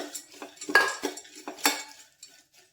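Peeled peanuts roast in a pan for a crisp spicy peanut snack, stirred with a metal spoon that clinks and scrapes against the pan in irregular strokes, close and fairly quiet with no talking.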